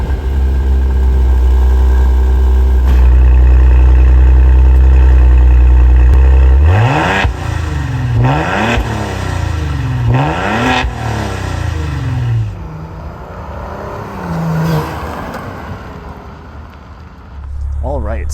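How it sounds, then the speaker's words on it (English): A 2021 Maserati Levante with quad exhaust tips starts up loud and close, settles into a deep idle, then gives a run of rising and falling revs, rumbling back down toward idle at the end. "So I'll turn on the engine, rev it a little bit"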